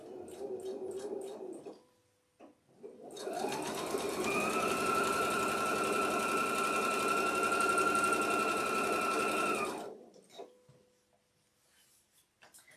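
A sewing machine runs in one steady, loud stitching burst of about seven seconds, with its motor whine holding even throughout. Brief handling clicks and rustles come just before it starts and again after it stops.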